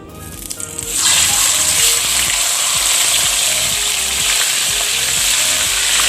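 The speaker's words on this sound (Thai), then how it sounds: "เราทอดที่ก้างก่อนนะคะ" Tilapia fish bones frying in hot oil in a pan, a loud, steady sizzle that rises sharply after a brief quieter start and holds strong throughout.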